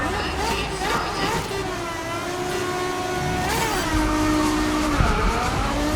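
Race car engine with tire squeal in the GRID Legends racing game: a steady, loud engine drone with shifting tones and a rev change partway through, continuous throughout.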